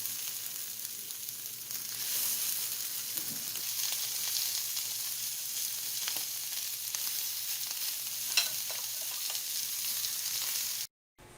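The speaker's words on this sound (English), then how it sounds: "I'm just going to go ahead and cook our shrimp in the same skillet." Shrimp frying in a lightly greased skillet, a continuous bright sizzle that carries steadily for about eleven seconds, close and moderately loud, with a few faint knocks and scrapes before it cuts off abruptly.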